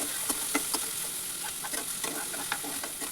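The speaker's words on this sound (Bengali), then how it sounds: "দিয়ে পেঁয়াজ কুচিটাকেও লাল করে ভেজে নিতে হবে।" Chopped onions fry in hot oil in a pan used for a fish curry, with a bright steady sizzle and frequent quick spatula clicks and scrapes stirring them close up.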